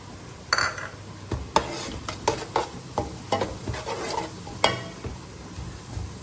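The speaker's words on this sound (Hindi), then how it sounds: "अब इसमें मैं थोड़े से खड़े मसाले शामिल करूंगी। बड़ी इलायची, दालचीनी के 2 टुकड़े और थोड़ा सा जीरा।" Whole spices including black cardamom, cinnamon sticks and cumin dropped into sizzling onions in a pot for chana pulao, with a spoon stirring and clinking against the metal in irregular knocks over a low frying hiss.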